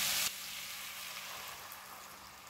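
A potato curry being stirred in a pan over a medium flame, giving a faint, even sizzle after a brief louder burst at the start.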